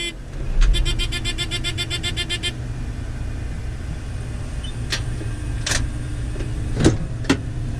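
A corn combine harvester runs in an Iowa field with a steady, close engine drone. A rapid mechanical rattle sounds in the first couple of seconds, and a few sharp squeaks follow later. No one speaks.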